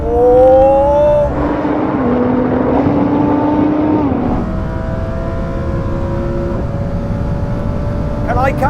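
A Lamborghini Huracan, Audi R8 and Nissan GT-R launch in a drag race, heard from inside one car as a loud engine roar rising through gear changes with rising pitch, steady and close.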